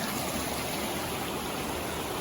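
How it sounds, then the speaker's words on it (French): A mountain river on the High Sierra Trail rushing past at a hiking crossing, a loud, steady broadband wash of flowing water with no pauses, close by and alone. "Premier passage de rivière."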